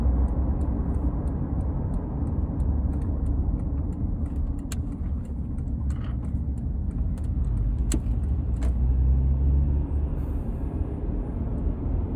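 Steady road and engine noise from a 2004 Honda Accord LX with a five-speed manual, about 110,000 miles, driving along in a lower gear on hills; an even, continuous drone with a few faint clicks and no talk.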